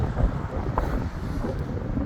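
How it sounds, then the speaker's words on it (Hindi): A cold wind blows in a steady rushing buffet against the microphone outdoors, a low continuous roar with no talk. "काफ़ी ठंडी हवा चल रही"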